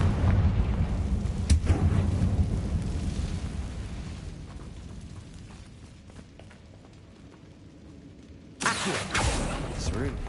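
Spell explosions from Confringo in the Hogwarts Legacy video game, a loud booming blast at the start, a sharp crack soon after, then a fading rumble and another burst near the end, with a voice speaking over parts.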